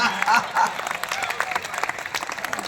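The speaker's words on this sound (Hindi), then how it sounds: "एक बार पुलिस के सम्मान में जोरदार तालियां" Audience applause honoring police at a Banaras comedy poetry fair, a burst of clapping from a crowd that carries on steadily for a few seconds with some voices mixed in.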